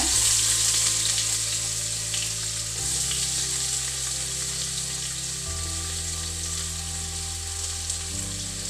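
Onions frying in a pan for a prawn coconut milk biryani, a steady loud sizzle with occasional stirring, no voices over it.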